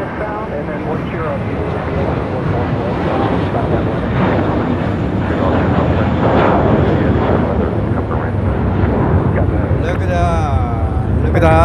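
A broad, steady roar from an American Airlines plane taking off at Fort Lauderdale airport, loud and sustained, with a voice briefly heard toward the end.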